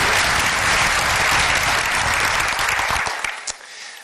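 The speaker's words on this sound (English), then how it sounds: "Let's give all of these amazing entrepreneurs one more big round of applause." A large audience gives a loud, dense, sustained round of applause for entrepreneurs at a leadership program event, tapering off with a few last claps.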